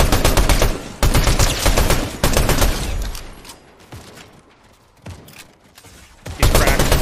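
Rapid bursts of gunfire ring out in Fortnite, loud repeated volleys broken by a brief lull before more shots, while players talk over the action.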